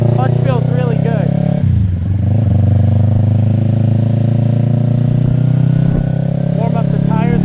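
A 2015 custom Yamaha R3 with a 320cc engine pulling away on the road, its loud, steady droning note rising and dipping slightly while a voice talks over it close to the microphone.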